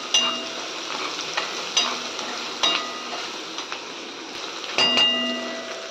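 Chopped onion fries and sizzles in a pan while being stirred for methi bhaji, a steady close crackle broken by several sharp scraping strokes of the spatula, with no talking.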